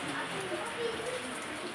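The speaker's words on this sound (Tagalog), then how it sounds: "Raining, nagpapaulan." Rain falling as a steady, soft hiss of drops on surfaces, continuous and even throughout, with voices speaking faintly underneath.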